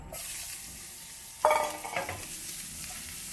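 Garlic, onion and ginger hit hot oil in a pan, a sudden loud sizzle bursting up after a quiet stretch and then settling into a steady frying hiss with some stirring.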